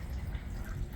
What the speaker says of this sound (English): you got water getting down into this crack.